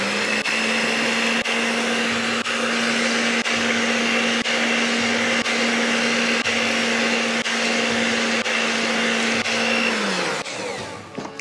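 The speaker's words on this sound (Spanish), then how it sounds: "Vamos a batir un poquito estos tres ingredientes para que se nos integren" An electric mixer or blender whirs steadily at high speed while beating cream, condensed milk and milk together, a loud constant motor drone for about ten seconds before winding down.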